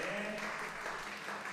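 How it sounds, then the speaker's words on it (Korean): Audience applauding players from both teams at the close of an esports tournament, a short, moderately faint burst of clapping with some voices mixed in. "관람객들은 양팀 선수 모두에게 축하와 격려의 박수를 보냈습니다"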